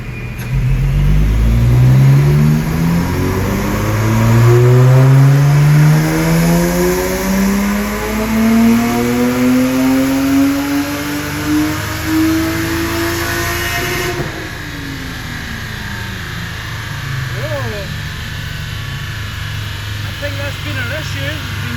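A Lexus IS200 engine revs on a dyno during an ECU tune, its loud tone sweeping steadily upward for about fourteen seconds before cutting off and winding down.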